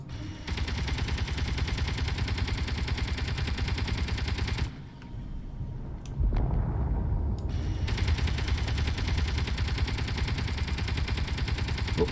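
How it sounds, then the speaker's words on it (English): In the space video game Space Engineers, a missile attack brings a dense, continuous roar of rapid fire and blasts. It cuts out briefly to near silence, then resumes just as loud. "Oh, that's a missile."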